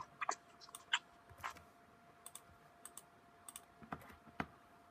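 Computer keyboard typing commands during a Minecraft Skyblock game: scattered light key clicks, a few quick bursts and single taps, close and fairly quiet, with no voices.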